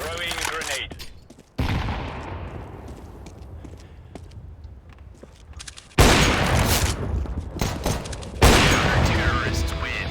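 A grenade blast and bursts of gunfire in the video game CS:GO, several sharp loud explosive onsets separated by decaying rumble, with rapid shots clustered near the end.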